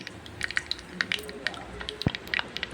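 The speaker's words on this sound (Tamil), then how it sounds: "கடுகு நல்லா பொரிஞ்சதுக்கப்புறம்" Mustard and fenugreek seeds splutter in hot sesame oil in a clay pot, giving a run of sharp close pops and crackles over a steady sizzle, with one louder burst near the end.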